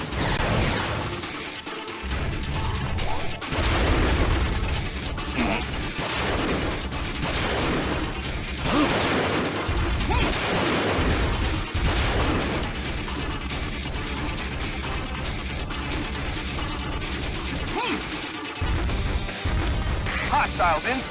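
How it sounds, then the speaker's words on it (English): Sustained video game combat in Transformers: Autobots on Nintendo DS, dense bursts of gunfire and crashing impacts running almost continuously, loud and busy, with game voices mixed in. "We are under fire."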